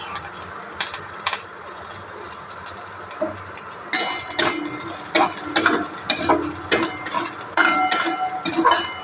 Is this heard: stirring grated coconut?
yes